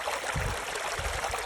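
Mountain stream on Bleaklow moorland with water rushing and gurgling steadily past, a close, continuous broadband wash with no voices.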